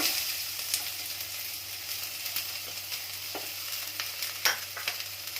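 Chopped onions fry in a tablespoon of hot oil in a pan for egg bhurji, a soft steady sizzle with occasional sharp crackles and light stirring scrapes, fairly quiet and without speech.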